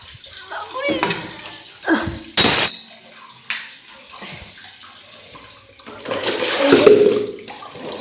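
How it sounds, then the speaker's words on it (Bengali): Hot water poured from a pot into a bucket at home, splashing and gurgling in short bursts between stretches of quiet, with a longer louder pour near the end and a voice talking in between. "জল গরম হয়ে গেছে পড়িস না তো চলো বালতিতে করে ঢেলে তারপরে নিয়ে যাব"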